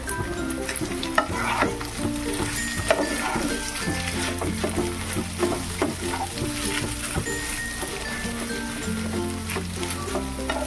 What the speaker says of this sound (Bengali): আমি একদমই এই ফ্রাই প্যানের মধ্যেই নাড়াচাড়া করব।